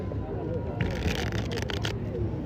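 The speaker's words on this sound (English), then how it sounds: "Let's shuffle." Tarot cards being shuffled close by, a brief papery riffle with fast crackling flutter lasting about a second, set against steady background noise and murmured talk.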